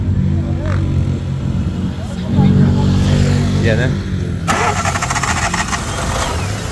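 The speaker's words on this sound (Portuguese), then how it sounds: "O amigo vai dar partida aqui no motor" A Fiat Uno with about 120,000 km cranks and fires up at a used car fair in Caruaru, a loud close starter grind and catch that settles into a steady idle with a sharp mechanical rattle, while people talk nearby.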